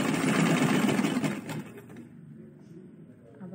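A sewing machine runs briefly while stitching a zip onto cloth, a busy mechanical whir that fades out after a second or two into quiet room noise.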